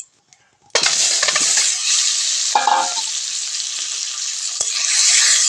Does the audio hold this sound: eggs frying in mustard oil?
yes